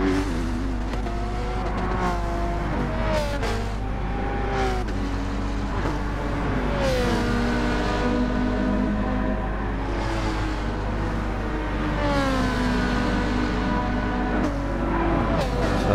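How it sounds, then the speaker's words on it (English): GT2 race cars in a video game, including a Mercedes, running side by side in a straight-line drag. Engines rev hard continuously, pitch climbing and dropping through gear changes, loud and close for the whole stretch. "we have a bit of a drag race with the Mercedes"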